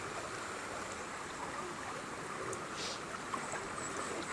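Steady rushing spring water at Hubason spring, Carmen, Surigao del Sur, flows strongly and continuously at a low level, a constant broadband hiss with no voices.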